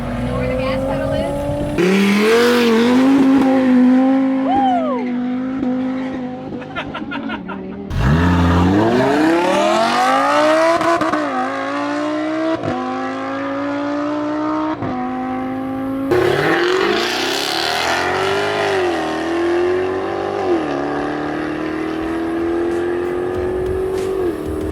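A Nissan R35 GT-R tears down an open airstrip, its engine revving hard through repeated gear changes with rising and falling pitch, loud and close, with brief tire squeal and wind roar between pulls.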